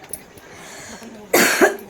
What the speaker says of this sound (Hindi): खांसी हो रही है मुझे बहुत तेज